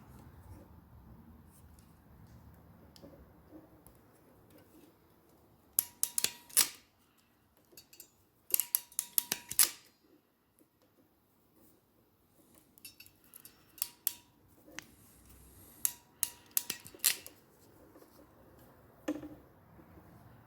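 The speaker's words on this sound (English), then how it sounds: "if you need the right tool for these, it's a Molex crimper" Several bursts of sharp metallic clicks and squeezes from a Molex-style crimper with toothed jaws pressing terminals onto wire for LS swap fan wiring, close and fairly loud, spaced out with quiet gaps between them.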